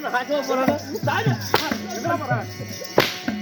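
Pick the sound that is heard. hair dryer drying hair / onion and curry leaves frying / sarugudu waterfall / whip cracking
whip cracking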